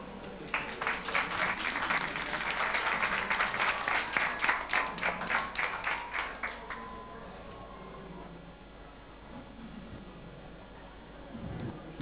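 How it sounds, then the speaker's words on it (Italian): Audience applause at the 2015 Coffee Show event featuring a barista performance, a burst of clapping building and sustained for several seconds, then fading out into quieter room noise. "E siete venuti fin qua per vedere Domenico e non gli avete fatto neanche un applauso"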